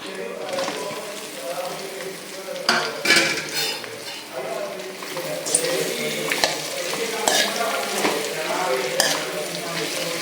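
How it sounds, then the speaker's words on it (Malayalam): Tapioca pieces tossed with fried onions and chilli in a hot pan, a steady sizzle with scraping spoon strokes and occasional metallic clinks against the pan, voices talking over it. "ഇത് നന്നായി ഇളക്കി യോജിപ്പിച്ച് ഈ മുളകൊക്കെ ഇട്ട് കപ്പയിലൊക്കെ ഒന്ന് പിടിച്ച് വന്നു കയറണം"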